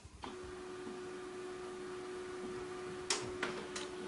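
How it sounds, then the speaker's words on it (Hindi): A printer that has just been switched on runs with a faint, steady electrical hum, and a few sharp mechanical clicks sound near the end. Nothing else is heard. "ये देखिए आप, प्रिंटर मैंने ऑन कर लिया है।"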